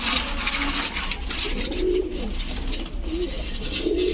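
Pigeons kept for sale, including Budapest, Saharanpuri, racer and Giribaz breeds, coo in low wavering phrases over a steady dense background hum, several calls repeating close by.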